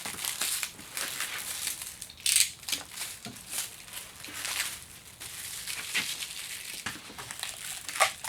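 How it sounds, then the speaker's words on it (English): Plastic and paper packaging is unwrapped from the parts of a Onefinity Journeyman X50 CNC machine, close-up irregular crinkling and crumpling rustles with sharper snaps here and there and no talking. "So I'm going to get these unwrapped."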